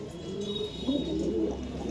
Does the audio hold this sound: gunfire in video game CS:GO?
no